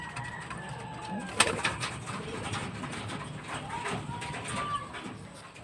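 Soft racing pigeon cooing comes through faintly against a noisy background, with one sharp click partway through.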